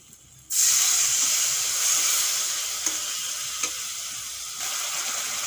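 Ground spices, including coriander, Kashmiri chilli, turmeric and salt, with a little water, hiss loudly in a hot pan for a Bengali soya chunk curry, a sudden bright sizzle that holds steady with a few stir clinks.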